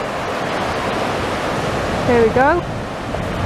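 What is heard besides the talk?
incoming tide waves on beach near Blackpool South Pier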